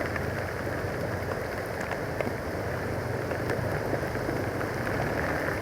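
Heavy rain pours down steadily, a loud unbroken roar with scattered sharper drop impacts on a nearby surface, no talking.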